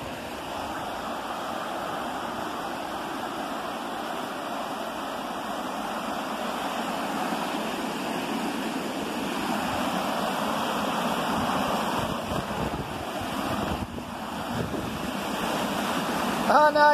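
A constant rushing roar of falling water fills the whole stretch, steady and broad, with wind buffeting the microphone now and then.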